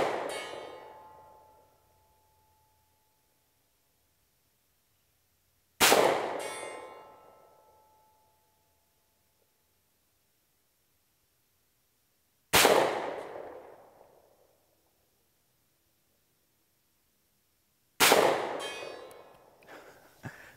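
Four separate reports from a SAR USA K2 .45 pistol fired outdoors at a steel target 100 yards away, each a sharp loud crack decaying over a second or two, spaced roughly six seconds apart with silence between.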